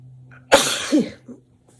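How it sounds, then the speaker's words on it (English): A single sharp, close burst like a sneeze, followed by a short breathy tail in a quiet room. "I took a break to blow my nose, and I'm sneezing a lot."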